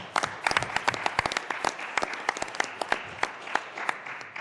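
An audience at a mayor's town hall meeting in a Boys and Girls Club facility breaks into applause, a loose crackle of individual claps with sharp distinct slaps throughout, moderately close and fairly thin.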